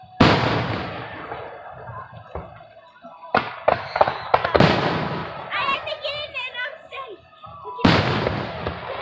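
Fireworks bursting at a powwow at night: loud, sharp explosions come in uneven clusters, some followed by crackling, while people talk and exclaim close by.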